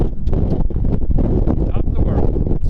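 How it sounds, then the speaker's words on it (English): Strong wind buffets the microphone on a hilltop during an off-road rock-crawling outing, a loud continuous rumbling roar with gusty bursts filling the whole stretch. "Super windy."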